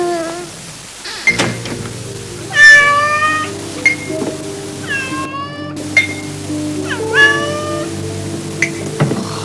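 Several cat meows recur through the stretch, close and fairly loud, over a steady low hum in a quiet indoor space.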